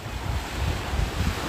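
Sea waves wash in on a rising high tide along a UK shoreline, a steady close surf rush with low rumbling surges and wind buffeting the microphone throughout.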